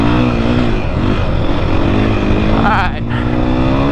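A 2021 KTM 500 EXC-F dirt bike engine hums steadily and close while the bike is ridden, with a brief voice cutting in near the end.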